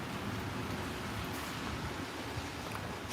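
Steady, dense rain falls at Birmingham Airport on a very wet day, a continuous broadband hiss that stays loud and even throughout with no talk.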